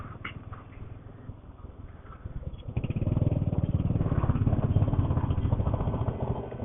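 Motorcycle engines from a Bajaj Dominar and a Suzuki GSX on a ride, a steady low drone that swells louder partway through as the bikes open up, with no talking.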